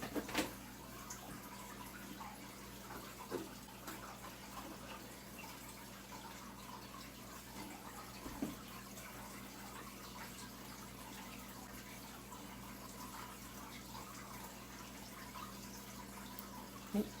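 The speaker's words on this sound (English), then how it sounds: "Just water that in." Water poured over a jade plant potted in a perlite mix, a steady soft trickle and gush running throughout at close range, with a few small knocks and no talk.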